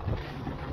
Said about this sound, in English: It might be too windy to do this right now